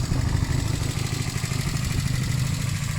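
Honda CB250 Nighthawk motorcycle engine running steadily at idle nearby, a continuous low rumbling putter with slight mechanical clatter.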